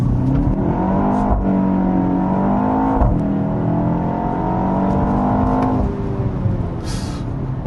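A BMW X1 M35i makes a launch start: a loud, close, steady engine drone with layered tonal harmonics holds for about six seconds, then drops away to a quieter hum.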